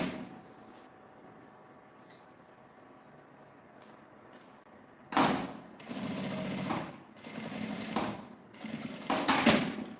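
A sewing machine stitching along the side of a small mesh fabric panel for a toiletry case: after a quiet stretch, several loud whirring bursts of stitching start and stop in quick runs, close up.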